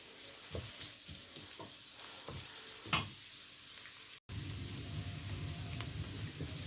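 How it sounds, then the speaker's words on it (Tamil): Chopped garlic, ginger and curry leaves sauté in a pan with a low, steady sizzle, punctuated by several scraping stirs and spatula knocks, fairly quiet and close with no talking, a brief dropout midway. "நான் சின்னதாக வெட்டி வச்சுருந்த பூண்டு பற்களும் இஞ்சியும் அதோடு சேர்ந்து இந்த கறிவேப்பிலையையும் நான் சேர்த்து வதக்க போகிறேன்"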